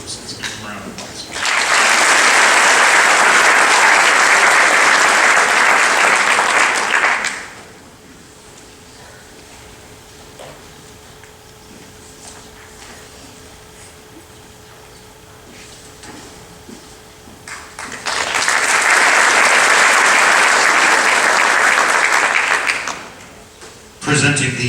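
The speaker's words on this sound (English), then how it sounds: "Let's give them a round of applause." Applause for scholarship winners at a 2025 senior awards ceremony: a loud, full crowd clapping for about six seconds, a quieter stretch of murmur and faint room noise, then a second long burst of strong applause.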